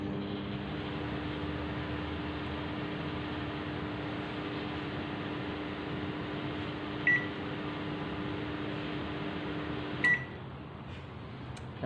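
Repaired microwave oven running on a 100 watt setting, a steady near hum with tonal drone throughout, broken by two short electronic beeps late on; no talking.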